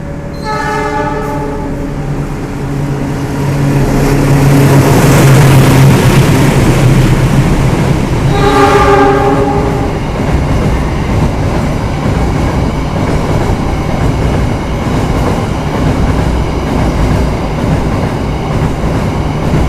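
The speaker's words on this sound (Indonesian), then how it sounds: "ketambahan kereta api Argo Merbabu tambahan" The Argo Merbabu passenger train, an additional service made up of new-generation executive and luxury coaches, passes very close and loud with a steady rolling rumble, sounding two long horn blasts, the first at the start and the second midway.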